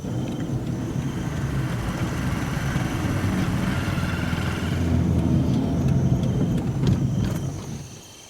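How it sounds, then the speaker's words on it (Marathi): A car engine hums faintly at a distance on a dark night, a low steady rumble with small mechanical ticks that holds on and then fades away near the end. "नाही अजून, आवाज येतोय अजून गाडीचा"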